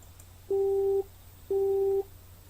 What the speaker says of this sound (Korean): 안 좋은 타이밍에서 전화가 끊어졌다.